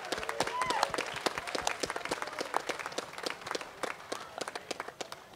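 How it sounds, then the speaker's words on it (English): An audience at the grand opening of the Levitt Pavilion in Denver applauds, with dense, sustained clapping that slowly thins toward the end. "So give yourselves a round of applause."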